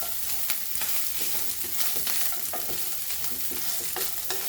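Sesame and pumpkin seeds roast together in a pan over a low flame, making a soft, steady crackle broken by repeated spatula scrapes and stirs, with no voices.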